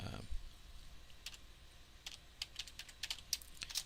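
Light, quick typing on a computer keyboard, a scattered run of soft, close key clicks over a faint background hiss.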